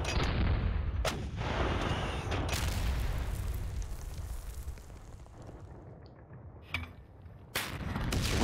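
Anti-tank guns fire in the Panzer Battles North Africa 1941 war game, several sharp booming shots with rumbling decay over a continuous low battle rumble, loud and close.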